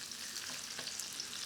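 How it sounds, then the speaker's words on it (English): Shallots frying in a hot pan give off a steady, soft sizzle with fine crackling bubbles throughout, with no voices over it. "they're sizzling up straight away"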